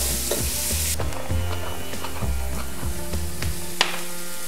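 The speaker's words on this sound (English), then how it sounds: "I'm actually going to add a little bit more oil because I want the" Vegetables and garlic sauté in oil in a pan for a Jamaican curry shrimp dish, sizzling loudly and continuously while a utensil stirs and scrapes in an irregular rhythm, with one sharp tap near the end.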